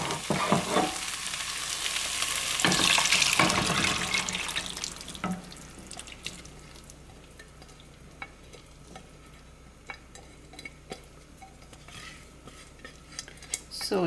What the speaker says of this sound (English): So now this is the time to add our chole or garbanzo beans.